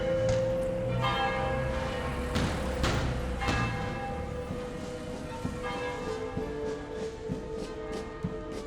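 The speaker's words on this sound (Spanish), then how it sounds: "Las campanas del Día de la Virgen en Yecla es como si sonaran distintas" Church bells ring steadily for the Day of the Virgin festival in Yecla, Spain, with repeated strikes and a long ringing hum, the clangs layered over a crowded outdoor din.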